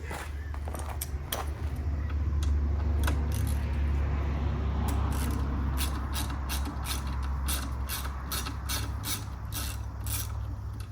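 A ratchet clicks in quick bursts as an L bracket is removed from a Recaro driver's seat, over a steady low hum nearby.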